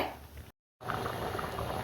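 Steady bubbling and gentle liquid churning of a kurma curry with potatoes boiling in a pressure cooker, broken by a brief silent gap before the boiling noise resumes.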